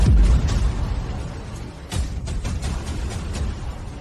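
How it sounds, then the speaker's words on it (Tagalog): Several sharp bursts crack out in quick, irregular succession over a rumbling, noisy background, like gunshots fired nearby. "Bakit ang daming putok ng baril sa kanya?"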